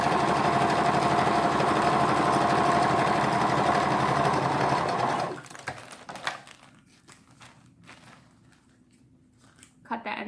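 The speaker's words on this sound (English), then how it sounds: "So we're just gonna sew that shut." A sewing machine stitches a plastic bag shut, running in a loud, steady mechanical whir for about five seconds, then stopping, followed by quieter rustling and handling sounds.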